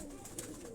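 Domestic pigeons coo softly in a brief, faint snatch, a low murmuring call with no voices present.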